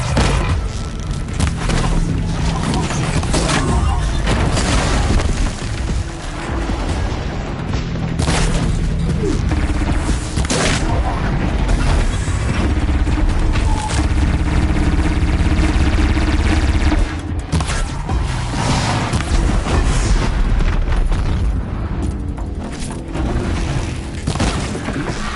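Dense, continuous rumbling booms and crashing blasts from the video game Horizon Zero Dawn, loud and close, with heavy low-end impacts stacking on one another for nearly the whole stretch and only a brief thinning near the end.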